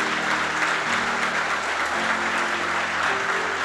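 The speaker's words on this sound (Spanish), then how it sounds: "Aplaudan fuerte." A church congregation applauds during a sermon, a thick continuous wash of clapping over sustained musical tones, steady and fairly loud for several seconds.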